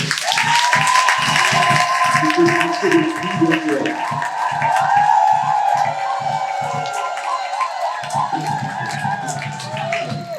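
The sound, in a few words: congregation applauding and cheering at a church wedding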